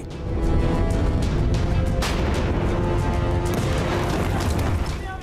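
Israeli air strikes hit Lebanon, producing a dense, continuous roar of blasts and rumbling booms that stays loud and sustained throughout, with sharper cracks breaking through.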